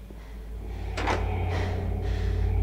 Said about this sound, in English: I'm not sure if I like the fact that that door opened